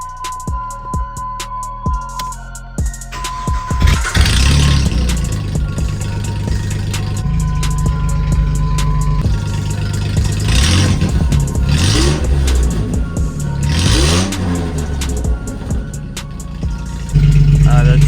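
A Jeep Liberty engine cranks and catches, then runs with a rough, heavy, tractor-like rumble and several revs rising and falling, loud and close.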